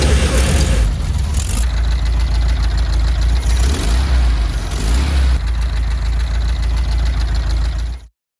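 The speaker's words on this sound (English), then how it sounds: "on the third try, the engine came to life" An old VW Beetle engine, left abandoned for ten years, running after starting on the third try: a loud, rough air-cooled idle with a throaty low rumble, briefly rising in revs, then cut off abruptly at the end.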